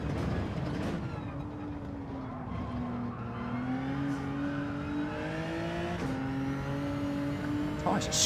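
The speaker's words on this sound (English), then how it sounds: "Tyres are squealing when they shouldn't be." Tyres squeal on a race car driven hard through a corner in Gran Turismo 7, layered over a steady, droning engine note that climbs in pitch, with someone talking throughout.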